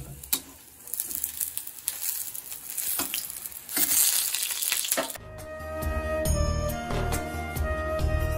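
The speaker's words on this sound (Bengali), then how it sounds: "খিচুড়ি একদম টকবক করে ফুটছে অলমোস্ট শেষের দিকে" A pot of khichuri boiling near the end of cooking, with a dense bubbling, sizzling texture that shifts and thickens partway through, close and continuous with no clear speech.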